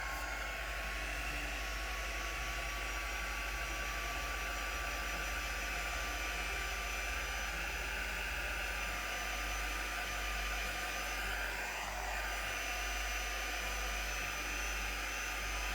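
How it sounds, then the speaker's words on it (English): A heat gun blows steadily and loudly on a drying handmade card, a continuous fan-and-heater whoosh with a slight shift in pitch partway through and no speech. "let's just give it a bit more encouragement with the heat gun"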